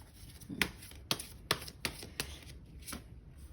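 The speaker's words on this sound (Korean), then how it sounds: "조언의 카드 빨리 뽑아보도록 할게요" Tarot cards are shuffled and drawn close up, a series of crisp riffling snaps and flicks spaced about half a second apart, quiet and without speech.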